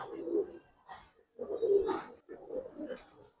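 Pigeons cooing in a loft: three rounded, throaty coo phrases, close and moderately loud, separated by brief pauses, with no talk over them.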